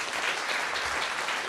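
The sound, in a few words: audience applause for a speaker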